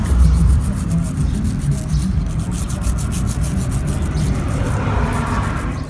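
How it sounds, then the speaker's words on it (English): A wire brush scrubs the battery terminals of a Bobcat 463 skid steer loader, giving a continuous close, gritty rubbing and scraping sound. "I'm just going to use this wire brush and just clean the terminals"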